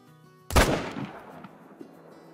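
A single loud M1 Garand rifle shot fired at a deer in the hunting game theHunter: Call of the Wild, a sharp crack followed by a rolling echo that fades over about two seconds.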